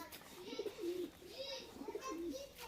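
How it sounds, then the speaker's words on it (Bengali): Pigeons at a pigeon farm coo in a close, repeated run of soft, rolling phrases, several coos following one another in quick succession. "খুব ছটপটে পায়রা, দেখতে পাচ্ছেন।"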